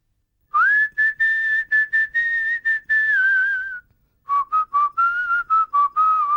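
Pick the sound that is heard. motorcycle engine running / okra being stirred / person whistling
person whistling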